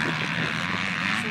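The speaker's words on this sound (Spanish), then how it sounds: "Es el puntero con la moto Menal 50." A Menal 50 racing motorcycle at speed on a track, its engine a steady, loud droning roar with continuous race commentary spoken over it.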